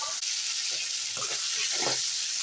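Boiled potatoes being stirred into sizzling masala in a pan, a steady frying hiss with a few soft scraping stirs, close and alone.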